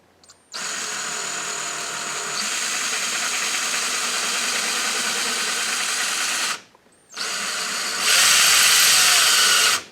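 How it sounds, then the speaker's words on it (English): A power drill bores slowly into a wall while a tool storage rack is being installed, whining loudly and steadily in two long bursts separated by a short pause, the second pitched higher. "Now the reason you drill very slowly is the worst thing you can do is drill, hit a hollow area"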